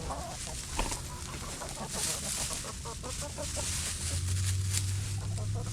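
Chickens cluck steadily at close range in a farmyard on an icy day, with a busy, continuous texture of overlapping calls and scratching that stays at an even, moderate level.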